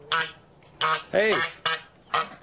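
A big goose honks in repeated harsh calls, five loud bursts spaced about half a second apart, close by, with a person speaking nearby at a feeding spot in Seattle.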